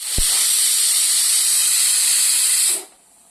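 A pressure cooker of millet and drumstick-leaf kichadi releasing steam, a loud continuous close hiss that holds steady for nearly three seconds before cutting off abruptly, preceded by a brief knock.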